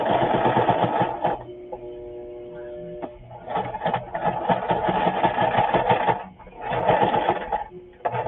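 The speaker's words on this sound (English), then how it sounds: "we're done with the sewing machine" Sewing machine stitching through a handmade journal, running in steady rapid bursts with a short pause and a clear stop before restarting, loud and close.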